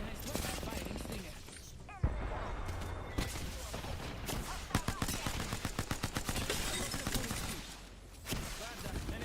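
Rapid bursts of gunfire in an Apex Legends ranked match, a fast rhythmic string of close shots with a player talking over it.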